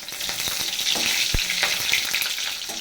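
Whole garlic cloves fry in hot oil in a pan, giving a loud, continuous crackling sizzle with scattered pops and light stirring clatter, close to the microphone.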